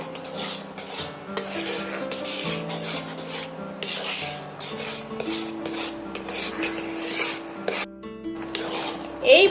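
Continuous scraping and stirring of semolina in sugar syrup in a metal pan, a steady rubbing rhythm with occasional spoon clinks, close by and with no talking.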